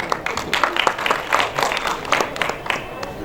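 An audience claps to welcome guests onto a stage, with a lively burst of many hands clapping at close range in a quick, uneven patter.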